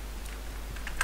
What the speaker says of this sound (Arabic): نكتب كلمة المرور.